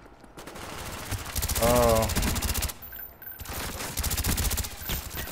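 Rapid bursts of automatic gunfire in a video game, loud and close, with fast rattling volleys broken by short gaps and a brief exclaimed voice in between.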